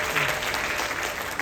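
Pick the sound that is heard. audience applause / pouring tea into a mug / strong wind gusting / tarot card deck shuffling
audience applause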